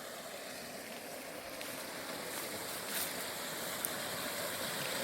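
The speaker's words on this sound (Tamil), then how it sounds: "இந்த கிணத்துல இருந்து பைப் தான் இப்போ தண்ணி போயிட்டுருக்கு" Water from a farm well runs through a pipe on agricultural land, a continuous faint rushing and splashing with a steady wash of noise and no talking.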